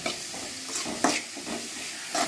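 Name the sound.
frying crab curry masala with onions in pan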